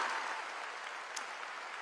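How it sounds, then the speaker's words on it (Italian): Crowd applause from a concert audience during a world tour show, a soft, distant, even patter of clapping heard faintly and without break. "partite pure con l'applauso perché è la verità"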